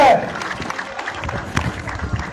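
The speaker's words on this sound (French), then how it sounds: "Merci d'applaudir le président de la mutuelle." A crowd at an outdoor youth festival in a Côte d'Ivoire village applauds the president of the mutual association. Scattered clapping and cheering run under a busy, noisy mix with voices talking, moderately loud throughout.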